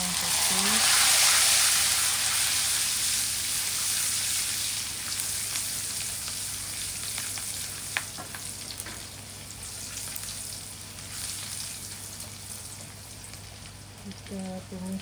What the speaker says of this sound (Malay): Kita tumis bahan ni sampai naik bau wangi dia.